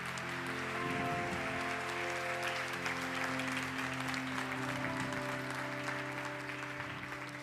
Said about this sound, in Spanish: Dale un aplauso a Jesucristo.